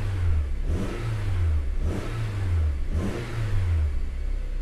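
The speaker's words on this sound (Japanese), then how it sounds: "ちょっとエンジンかけてみます。" A black Honda Accord 2.0 Euro R with about 78,900 km starts up and revs, its engine rising and falling in three repeated throttle blips over a steady idle, close and clear with no talking.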